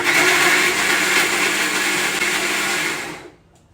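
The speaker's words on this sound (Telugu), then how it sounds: "చింతపండు మిక్సీ పట్టేసిన అదే మిక్సీ జార్లో టమాటా ముక్కలు కూడా వేసి ఒక్క రౌండ్ తిప్పుకోవాలి" A mixer grinder whirring loudly as it blends tamarind and tomato pieces in its jar, a steady high motor roar for about three seconds before it cuts off.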